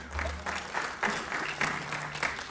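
Audience at a city budget address breaks into brief applause, a few rhythmic swells of clapping over roughly two and a half seconds, moderately loud with some crowd murmur.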